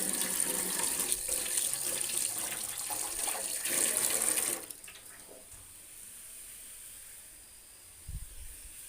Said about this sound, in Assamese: হাতটো ধুলোঁ।